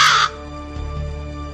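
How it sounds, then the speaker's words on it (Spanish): A raven caws in a Spanish audiobook reading of Poe's poem: one loud, harsh, rasping call right at the start, then a quiet lingering musical drone beneath. "Y el cuervo dijo:"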